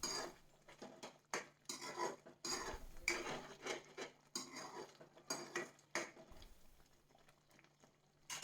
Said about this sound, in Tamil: இதை ஆட் பண்ணிவிட்டு நல்லா கலந்துக்கோங்க.